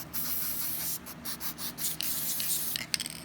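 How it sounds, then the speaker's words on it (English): Bursts of Tri-Flow aerosol lubricant hissing onto old flatbed sewing machine parts, a steady spray broken into short pulses near the end, close and fairly quiet, no voices. "We're going to spray the parts."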